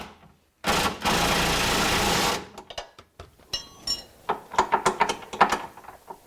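Control arm bolts being tightened on a Jeep Liberty's rear suspension: a sustained whirring burst from a power tool, followed by a string of quick rattling mechanical clicks and knocks, close by, with no speech.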